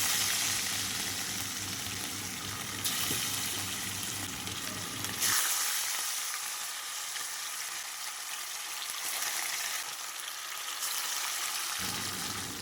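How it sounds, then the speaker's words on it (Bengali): Rohu fish pieces frying in oil in a wok make a continuous, fairly soft sizzling hiss, steady throughout with a slight shift in tone partway through and no talking. "এখানে কড়াইটা আমার গরম হয়ে আসলে আমি মাছগুলো একে একে ছেড়ে দেবো"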